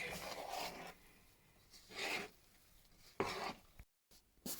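A spoon stirs thick, heavy Easter bread dough in a bowl, giving soft scraping and slapping strokes in uneven bursts, fairly quiet and close, with no talking.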